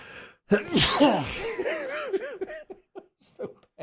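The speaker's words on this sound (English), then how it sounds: "I really thought I could get through the whole thing without the sneeze" One loud, sudden sneeze in a radio studio, followed by giggling and chuckling from people nearby.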